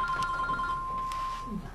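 A mobile phone rings indoors with a steady electronic tone that holds for over a second before cutting off, while faint voices sound in the background.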